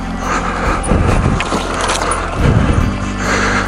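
A Beta dirt bike engine runs in gear with the clutch pulled in, out on a trail, a steady close rumble with a few throttle swells and light rattling, no talking.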